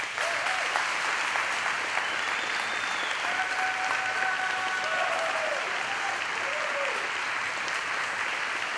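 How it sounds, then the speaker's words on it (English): Sustained audience applause at a WISH event fills the space steadily and fairly loud, a dense wash of clapping with faint crowd murmur and a brief distant voice beneath it. "Yes, please, applause."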